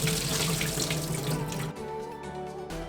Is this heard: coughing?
no